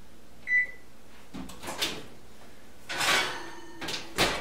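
An oven is set to preheat to 400 degrees: one short electronic beep, then several clunks and thumps like a door or drawer opening and closing nearby, with no talk.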